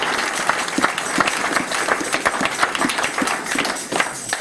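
A church congregation applauding and acclaiming God, loud sustained clapping from a crowd filling the room, with scattered voices mixed in.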